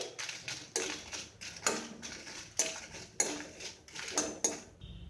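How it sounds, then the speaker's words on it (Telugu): Dried red chillies roasting in a little hot oil in a kadai, with repeated metallic clinks and scrapes of a spoon against the pan in an uneven rhythm, close and fairly loud, with no talk. "ఆయిల్ వేడెక్కిన తర్వాత ఎండుమిర్చి వేసుకోవాలండి. ఇవి దోరగా వేయించుకోవాలి."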